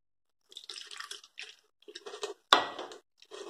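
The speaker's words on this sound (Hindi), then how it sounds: "थोड़ी सी और पानी लेंगे हम।" Water is added to tamarind pulp in a strainer while making chutney, giving brief close-up drips and wet squelches. One sharper splash lands midway, and the gaps between are quiet.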